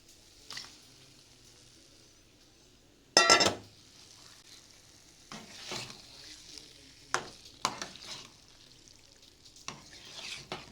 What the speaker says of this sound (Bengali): তো এবারে আমি লোটে মাছগুলোকে দিয়ে দেবো।